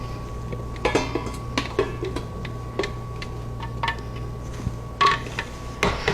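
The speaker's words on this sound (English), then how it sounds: "And then we're going to move it into our pot." Cranberry mustard mixture being moved into a pot, with scattered close clinks and scrapes of utensils against cookware over a low steady hum, irregular and moderately loud, no talking.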